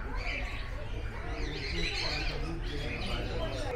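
A large flock of birds gathered at feeding time in an aviary at Alipore Zoo, Kolkata, chirps and calls densely and loudly, mixed with the murmur of nearby visitors.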